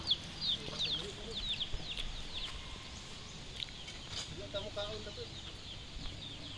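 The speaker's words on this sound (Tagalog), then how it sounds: "Mga malalaking klase ng manok." Chickens cluck and squawk in short bursts at a moderate distance, with quiet talking underneath.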